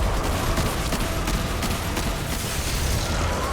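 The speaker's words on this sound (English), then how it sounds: "Dude, who is shooting me?" Dense, continuous gunfire from the video game Destiny 2 fills the whole stretch, a loud, steady barrage of overlapping shots with no gaps and no talking.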